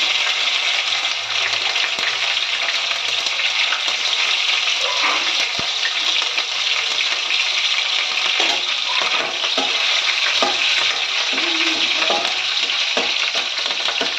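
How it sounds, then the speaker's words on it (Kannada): Chopped green chillies and curry leaves fry in hot oil for a spiced puffed-rice dish, giving a loud, unbroken sizzle with occasional scraping stirs toward the end. "ಹಸಿಮೆಣಸಿನಕಾಯಿನ ಸ್ವಲ್ಪ ಹುರ್ಕೋಬೇಕು"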